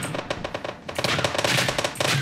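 Rapid machine-gun fire in the World War II shooter Heroes & Generals, a steady rattling stream of close, loud shots with no talking over it.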